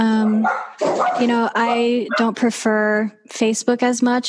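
A dog barks repeatedly during a podcast recording. Sharp barks and yips break in close by while a person keeps talking over them.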